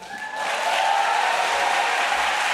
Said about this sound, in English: huge round of applause for the Jiri dancers!